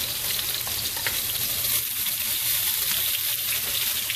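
Chopped peppers and onions sauté in a hot pan with a steady, close sizzle and crackle that holds evenly throughout, with no talking.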